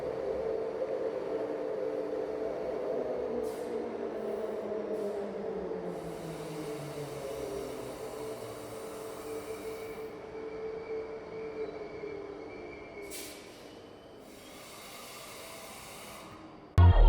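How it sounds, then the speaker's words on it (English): Queensland Rail Intercity Express train heard from inside while riding out of a tunnel: a steady rumbling roar with a long wheel tone sliding downward, occasional hissing bursts and a brief thump at the end. "It's just coming out of the tunnel now, and yes, it's an Intercity Express."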